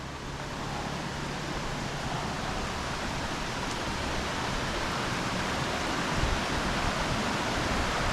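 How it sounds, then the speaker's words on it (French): A small stream runs among the Bali rice terraces, giving a steady, broad rush of flowing water that holds an even level throughout and carries no voices. "Par là on a une sorte de petit cours d'eau."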